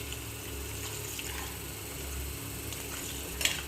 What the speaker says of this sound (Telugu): కొద్దిగా సరిపడా పోసుకోండి వాటర్.